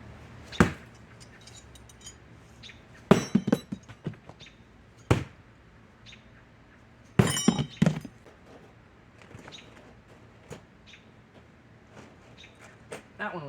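Blunt, unsharpened rebar throwing knives hit brass wire mail armor in a string of separate sharp thunks and metallic clanks, spaced irregularly, with faint talk in between.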